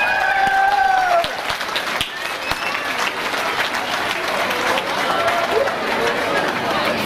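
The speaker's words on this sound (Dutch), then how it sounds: "Een applaus, dames en heren, voor het Rozen Trio" An audience at a local Dedemsvaria festival stage event applauds the Rozen Trio, a dense wash of clapping and crowd chatter that carries on throughout while an amplified voice speaks over it near the start.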